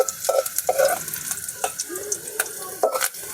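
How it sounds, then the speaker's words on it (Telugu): Onions and chillies frying in a pan for a curry of edible insects, with bursts of sizzling and the clink and scrape of a spoon stirring them at close range. "ఈ ఉల్లిపాయలను అయితే బ్రౌన్ కలర్ వచ్చే వరకు బాగా వేగించాలి"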